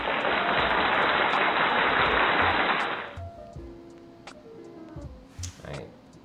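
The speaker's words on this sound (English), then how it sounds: "Clap." A live audience claps in a dense, loud burst of applause lasting about three seconds, then stops abruptly, followed by a few faint clicks and quiet stray sounds.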